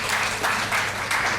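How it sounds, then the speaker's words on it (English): Audience applause at a public space audit report release event, a steady burst of clapping from a crowd welcoming arriving guests, filling the room with no voices over it. "May we have a round of applause?"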